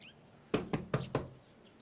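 Four sharp knocks on a door, evenly spaced and close, standing alone with no voices between them.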